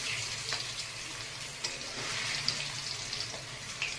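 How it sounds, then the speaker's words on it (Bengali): Paneer frying in oil in a home kitchen, a soft continuous sizzle with faint crackles and light stirring taps, fairly quiet and close, without talk. "আগে পনিরটা ভেজে নেবো"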